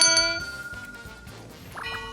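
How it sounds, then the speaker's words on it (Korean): A bright golden bell sound effect rings with clear metallic dings, several struck tones that decay and ring again near the end, heard alone without speech. "드디어 골든벨이 울렸습니다"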